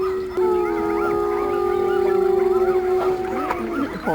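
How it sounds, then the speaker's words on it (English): Two or three coyotes howl together at a wolf park, high wavering howls and yips overlapping in a sustained chorus that rises and falls, loud and fairly close. "Yeah, coyotes. All that noise, high pitch,"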